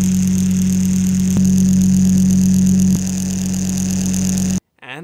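A cheap handheld portable fan at top speed produces a steady close whir with a firm low hum and airy hiss, which drops slightly partway through and then stops abruptly before a voice comes in.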